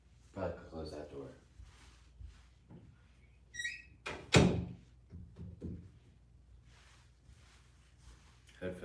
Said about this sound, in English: Probably close that door.